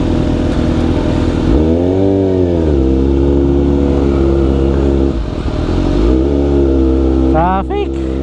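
Road traffic with motorcycles and cars runs loud and close during an alay lakad walk in Pangasinan, with engines droning and revving up and down in several swells while people talk over it.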